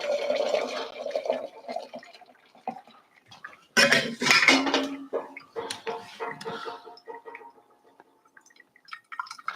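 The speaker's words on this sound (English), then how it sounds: "Time to fill more of the kettle." Water pours into a metal kettle during coffee brewing with a Chemex-style metal filter, a steady close splashing and trickling broken by clinks of metal and dishware, with no talking.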